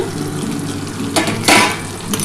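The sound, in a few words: lid being taken off a frying pan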